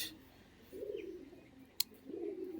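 Pigeons held close in the hands give two low, soft cooing phrases. A sharp click falls between them over a quiet background.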